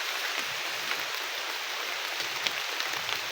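Heavy rain pours down steadily outdoors during a bamboo-shoot harvest, a dense, even hiss of drops hitting leaves and ground with no voices.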